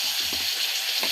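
Eggplant fries in hot oil in a wok, giving a steady, moderately quiet hiss with a few soft low bumps underneath.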